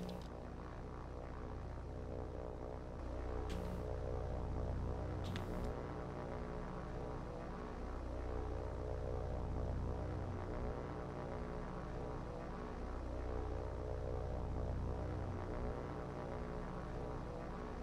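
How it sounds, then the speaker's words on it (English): A single-engine propeller float plane in a naval war game drones steadily overhead for the full stretch, its engine note rising and falling gently as it passes, with a couple of brief sharp clicks over the steady hum. "It's just a float plane."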